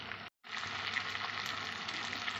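Ginger garlic paste sizzles in a pan with fried onion and tomato, a steady, close hiss of frying that continues unbroken apart from one brief cut near the start, with no talking.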